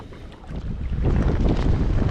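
Strong wind kicking up on Greenbo lake buffets the microphone from a kayak, rising from a moderate rush to a loud, continuous roar with rough gusting and no voices.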